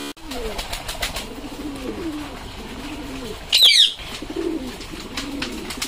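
Pet pigeons in a monsoon-season loft coo repeatedly in soft, low rolling phrases, with a brief burst of wing flapping or scuffling midway.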